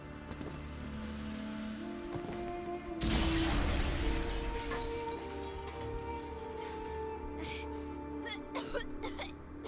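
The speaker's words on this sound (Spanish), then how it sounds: "Y se fueron los cristales." Glass shattering in the video game God of War 3, a sudden loud crash that bursts in and leaves a ringing, scattering decay over a low game soundtrack.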